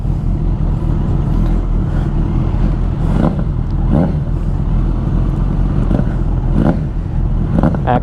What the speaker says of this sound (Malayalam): ആക്രയുടെ എക്സോസ്റ്റ് അതിന് വെച്ചിട്ടുണ്ട്.